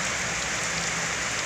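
Steady rain falls in a town during the Lebaran holiday, a soft, even hiss of drops on surfaces that continues without a break for its short duration.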